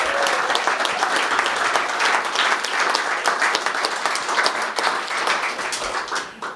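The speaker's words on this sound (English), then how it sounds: "now I want to hear a cheer for the people that do work for Spokane Public Schools" Audience at a roast event for Spokane Public Schools staff clapping and cheering, dense, loud, sustained applause that carries on throughout and thins slightly at the end.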